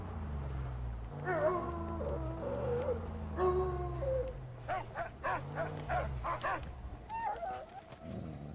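A dog in the Mad Max video game gives a run of barks and whimpering yelps, moderately close, over low engine-like rumbling game ambience with no talk.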